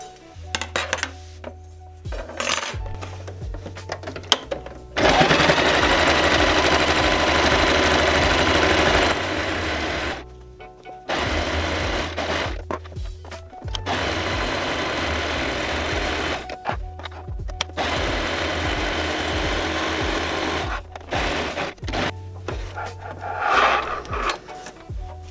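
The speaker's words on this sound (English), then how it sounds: "I will draw the line and then I can just sew over that" A sewing machine stitches a fabric triangle for a guinea pig corner hammock, running in several long bursts with pauses between, its steady mechanical whir close and fairly loud with no talking.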